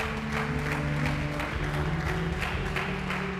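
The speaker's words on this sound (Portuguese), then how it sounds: "Você podia dar um aplauso a Ele." A church congregation applauding steadily, a continuous wash of many hands clapping in a reverberant hall with a low organ or keyboard chord sustained underneath.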